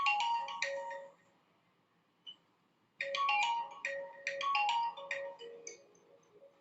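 A phone ringtone for an incoming call plays as a bright, repeating electronic melody in two bursts separated by a short pause, clear and fairly close, with no talk over it.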